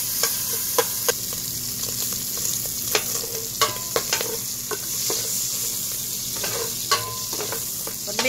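Meat for Chinese lomi sizzles steadily in a hot pan, with sharp clacks and scrapes of a spatula stirring it at irregular intervals, close and loud, with no talking.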